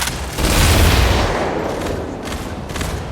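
In a video game, a missile hits with a loud, booming explosion that rumbles and fades, followed by a few softer blasts.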